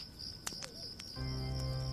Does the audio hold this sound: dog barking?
no